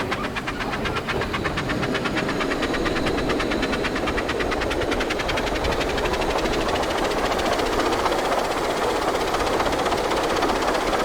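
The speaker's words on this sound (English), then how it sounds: "Use the throttle once again to apply some power to get Thomas moving." Thomas the Tank Engine pulls away in the Train Sim World 5 game, a steady rolling rumble with a rapid, even mechanical clatter continuing throughout, no voices.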